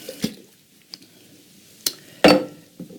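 Canned fire-roasted tomatoes go into a soup pot with a few sparse metallic clinks and taps, then one louder wet plop and splash, followed by a faint clink in a quiet kitchen.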